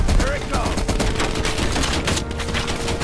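Rapid automatic gunfire from a heavy weapon fired from the hip in Call of Duty Cold War, a dense continuous burst of shots with loud battle noise throughout.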